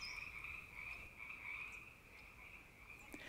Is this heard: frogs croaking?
yes